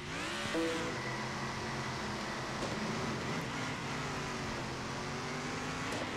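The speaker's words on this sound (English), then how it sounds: "Sounds like a stock car, that's for sure." A stock car engine roars steadily in the racing video game Circuit Superstars, its deep drone holding constant with a brief rising rev near the start.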